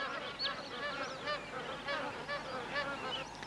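Magpie geese, also called pied geese, honk repeatedly in a busy flock while feeding in northern Australian wetlands, a chorus of nasal calls at moderate distance over a soft background hiss.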